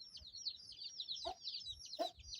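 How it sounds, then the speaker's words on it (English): A live hen, carried by hand in a village, gives a few short clucks and squawks at close range, two louder calls standing out above a quiet background, with no talking. "I don't normally carry a live hen."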